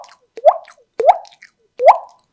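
Vocal percussion from a tabla player mimicking water droplets: three distinct, evenly spaced liquid plops with rising pitch, close and clear with no other sound.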